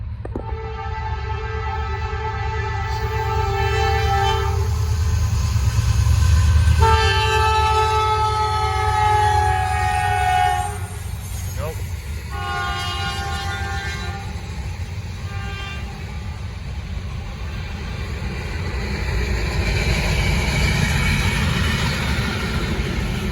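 A Norfolk Southern freight train heading southbound sounds a long, loud multi-tone horn in repeated blasts over a steady low rumble of rolling wheels and engine, close by and continuous throughout.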